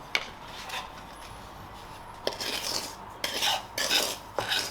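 A spoon scrapes roasted semolina out of a pan into a cup, giving scattered metallic scrapes and grating bursts, some short and some longer, over a quiet background with no voices.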